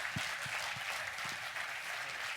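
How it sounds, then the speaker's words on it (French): An audience at an evening session claps steadily throughout, a dense, even wash of applause heard from within the room, a few louder claps standing out close by. "Applaudissements."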